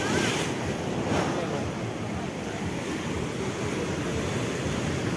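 Sea waves wash onto a Goa beach in a loud, continuous rushing surge, mixed with strong wind noise against the microphone.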